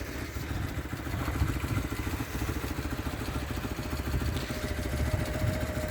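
BMW R1100 motorcycle engine idling steadily nearby, a continuous low rumble with a clattery mechanical edge as the bike is rocked left and right, holding an even level throughout.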